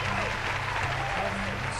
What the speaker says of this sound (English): We get some applause.